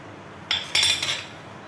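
A spoon clinks and scrapes against a bowl while curd is whisked for raita, two short bright metallic bursts close by, then fading into quiet with no talking.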